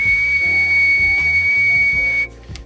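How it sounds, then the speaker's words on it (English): A person whistles one steady, sustained high tone to test a handheld noise meter's sound level display, loud and close over a low background hum, ending abruptly near the close. "So if I whistle,"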